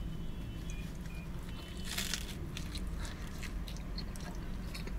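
Close, crunchy bites and chewing of a pizza slice topped with onions and garlic sauce, a crisp crackle around two seconds over a steady low background hum, with no talking.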